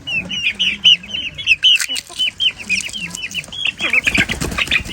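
Japanese hens and roosters cluck in a rapid, busy chorus, many overlapping calls close by and loud, with some scuffling toward the end.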